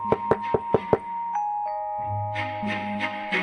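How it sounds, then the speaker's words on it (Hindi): A quick series of five sharp knocks on a house door, evenly spaced, followed by ringing chime-like tones and a soft musical swell, clear and close with no talking. "एक साधु आया और ढोलू के घर का दरवाजा खटखटाया।"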